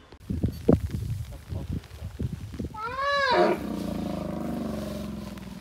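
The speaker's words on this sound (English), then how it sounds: "some of the audio from this one elephant that was quite vocal when it came up to the front of our truck" Low rumbling and scuffing give way to a single loud, wavering trumpet-like call from an elephant near a safari truck in South Africa, followed by steady hiss of falling rain.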